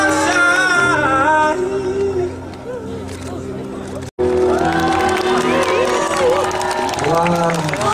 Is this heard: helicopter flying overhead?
no